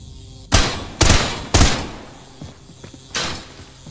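Four loud, sharp gunshots from the video game Trepang2, three evenly spaced about half a second apart and a fourth after a pause, each with a short decaying tail and faint clatter between.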